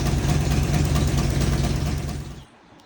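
A Ford Mustang engine idles with a dense, steady rumble that cuts off near the end, leaving quiet.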